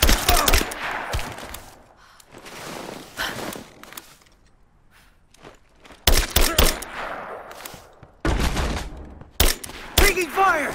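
Bursts of gunfire ring out in a combat scene from the video game Rise of the Tomb Raider, with irregular loud shots and volleys separated by quieter gaps and brief shouted voices.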